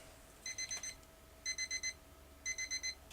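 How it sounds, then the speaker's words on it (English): A kitchen timer goes off in three bursts of rapid, high, evenly spaced beeps, four or five per burst, fairly faint over a low steady hum. "See, perfect timing, you can hear the timer going off."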